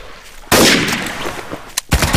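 Desert Eagle pistol fire in the video game Trouble in Terrorist Town: after brief quiet, one loud close blast rings out, followed by two more sharp shots in quick succession.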